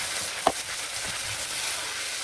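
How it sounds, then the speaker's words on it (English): White cooking wine hits hot rice in a pan of butternut squash risotto, setting off a steady close sizzle with one brief splashy burst near the start. "I'm then going to add a 1/2 cup of cooking wine"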